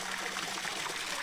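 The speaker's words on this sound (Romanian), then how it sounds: "A tras apă la toalet." A flushing toilet sends a steady rush of running water, a continuous, fairly faint trickling wash with no voices over it.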